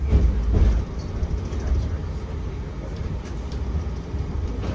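Canberra light rail tram rumbling on its final approach into Gungahlin Place stop, a steady low rolling drone heard from inside the carriage, slightly louder at the start, with a faint voice over it.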